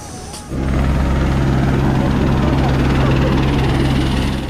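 Steady loud helicopter engine and rotor drone with a strong low hum, heard near the Sugarloaf Mountain cable car in Rio de Janeiro, starting abruptly after a brief quieter moment and holding constant throughout.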